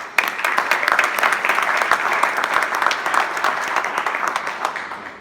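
A large audience applauds graduates at a graduation ceremony, a thick, continuous roar of clapping with sharp individual claps standing out, loud and sustained from start to finish.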